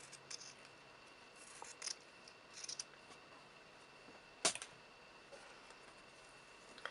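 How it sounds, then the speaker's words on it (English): Scissors trim a quarter-inch fabric seam on a pieced quilt block, making a few quiet, sharp snips spread across a hushed room, with one louder cut standing out in the middle. "And then trim your 1/4 inch seam."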